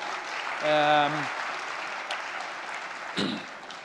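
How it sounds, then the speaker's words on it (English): Applause for sponsors at the Launch Festival 2013 tech conference, a steady wash of audience clapping in a large hall, with a brief tone and a faint voice heard over it. "Big round of applause for our sponsors who helped make everything possible."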